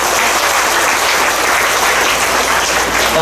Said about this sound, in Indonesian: Maka boleh tepuk tangan ke mereka.